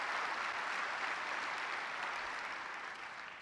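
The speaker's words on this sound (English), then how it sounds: "Give them a huge round of applause" Sustained, dense audience applause at a keynote event, loud and steady throughout before tapering slightly at the end, with no talking over it.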